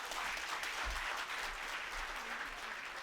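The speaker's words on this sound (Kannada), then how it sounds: "ಚಪ್ಪಾಳೆ ಇನ್ನೂ ಸ್ವಲ್ಪ ಜೋರಾಗಿ ಹೊಡೆದ್ರೆ ಚೆನ್ನಾಗಿರುತ್ತೆ" Applause from an audience at an event honouring S.N. Murthy, a senior advocate of the Karnataka High Court: dense, sustained clapping from many hands filling the whole stretch, moderately distant and even.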